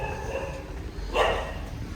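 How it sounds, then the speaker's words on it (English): A dog gives a single short bark, fairly close, over steady low background rumble. "Dog's barking at me."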